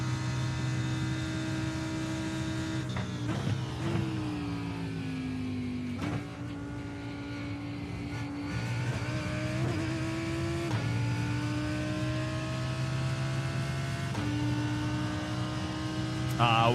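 A Lamborghini race car engine in iRacing at the IMSA Daytona race: a steady, humming engine tone that rises and falls with shifts and throttle changes throughout, with no talk over it.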